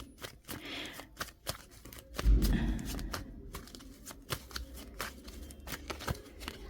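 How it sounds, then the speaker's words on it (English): Tarot cards riffled and shuffled in a series of quick, close papery bursts, with one fuller flurry of cards partway through. "I want to pull up another card, another tarot deck."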